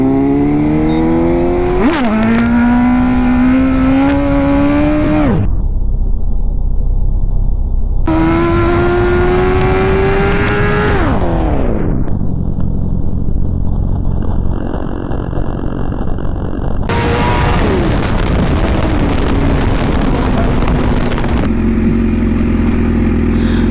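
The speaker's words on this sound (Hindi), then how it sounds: "तो देख रहे हो भाई क्या व्हीली मार रहा है।" A BMW S1000RR or Yamaha R15 sportbike revs hard through repeated wheelies, engine pitch climbing and dropping in loud, near surges separated by brief lulls as it passes.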